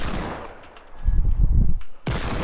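Gunfire in the Fortnite video game, a short rapid burst of loud shots up close, followed by a sharp crackle after a brief lull.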